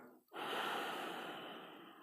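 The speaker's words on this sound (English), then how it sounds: "Then I breathe in again." A single long, breathy exhale during a breathing exercise, close and soft, rushing out steadily for nearly two seconds after a brief pause.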